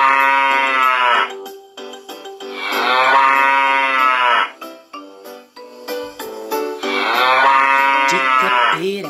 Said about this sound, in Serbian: I na farmi ima kravu, ija, ija, jo. Krava kaže: